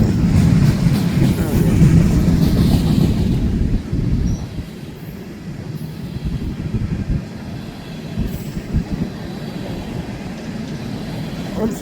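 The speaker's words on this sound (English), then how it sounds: "this looks like one of those blue and white remote control locomotives" A Powder River Basin coal train in Wyoming, with blue and white remote control locomotives, rumbles past close by, its heavy low roar and clattering wagons steady throughout, easing slightly partway through.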